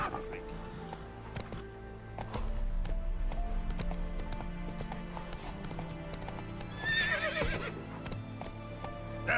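Roach, a horse in The Witcher 3, trots with steady close hoofbeats over a low rumble, then lets out a clear neigh near the end while a person talks.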